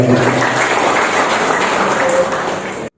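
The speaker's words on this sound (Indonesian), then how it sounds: "Aplaus untuk kawan-kawan saya" A room of meeting attendees applauding at a union congress in a hotel, dense sustained clapping that carries loudly for nearly three seconds, then cuts off abruptly.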